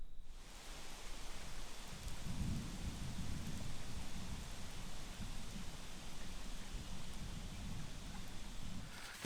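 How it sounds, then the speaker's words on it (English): Thunderstorm on an Adirondacks hillside hiking trail, with steady rain hiss and wind over a low, continuous rumble of thunder that swells early and keeps rolling throughout, fairly loud and close, with no talking. "With the wind picking up and the storm coming in"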